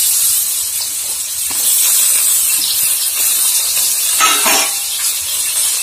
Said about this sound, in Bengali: এই যে গোল গোল করে তো আলু গুলো ধুয়ে রেখেছি, এখন তেলে ছেড়ে দেবো